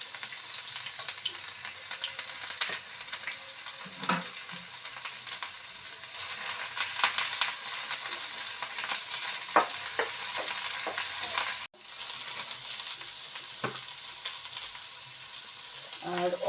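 Onion, garlic and green chili frying together in a pan, a steady close sizzle with frequent spatula scrapes and clicks, briefly cutting out before the frying resumes.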